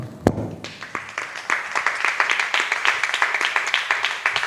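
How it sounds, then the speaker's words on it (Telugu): An audience claps for the many who pray at a church gathering, with a sharp first clap followed by a steady run of close, rhythmic hand claps for several seconds. "ఆ అనేకులకు చప్పట్లు కొడదామండి."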